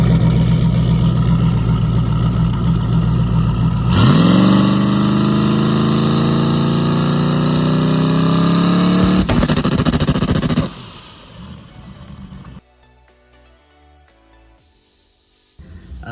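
A turbocharged drag race car engine idles loudly, then revs up with a rising, sustained tone held for several seconds before cutting back, followed by quieter idling.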